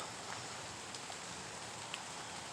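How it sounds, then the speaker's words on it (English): Steady soft patter of rain falling outdoors in the late afternoon, a faint even hiss with occasional distinct drops and no talk. "So rain."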